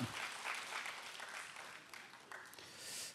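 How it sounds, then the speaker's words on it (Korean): Church congregation at a Friday prayer meeting applauding steadily, a dense wash of clapping that holds fairly even throughout and swells slightly at the end. "다시 한번 하나님께 영광의 박수 함께 경의의 박수를 드리겠습니다."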